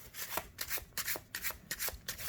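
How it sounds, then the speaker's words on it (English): A deck of playing cards gets a quick overhand shuffle, a rapid run of soft papery rubbing swishes in an uneven rhythm, close and fairly quiet. "Quick little overhand shuffle."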